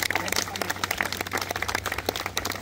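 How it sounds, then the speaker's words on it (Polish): Applause and clapping from an audience at a historical reenactment commemoration in Anielin, a steady patter of many hands, fairly faint and distant, with talk mixed in. "Gorące brawa dla kolegów!"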